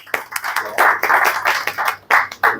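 Scattered applause from a lecture audience, a handful of uneven, separate claps in irregular bursts rather than a full ovation, fairly close.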